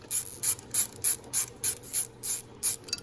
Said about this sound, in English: So that's a neat little ratchet as well. Call it thumb ratchet